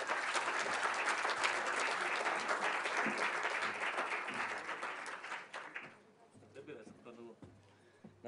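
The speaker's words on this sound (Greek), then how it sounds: "θέλω να υποδεχτούμε με ένα θερμό χειροκρότημα τον αγαπητό σε όλους μας" A Greek conference audience at a leadership seminar claps warmly to welcome a speaker, dense sustained applause filling most of the moment before thinning out into scattered claps and room noise near the end.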